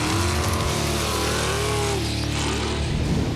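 An off-road race vehicle's engine revs hard and continuously, a loud, dense roar with rising and falling pitch sweeps, close by and alone without talk.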